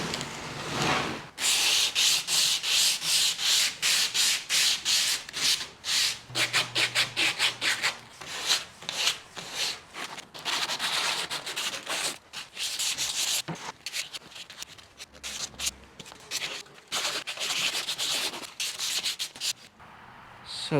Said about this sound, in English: So I'm just gonna get all the corners and edges sanded down and get it stained up real quick before I leave.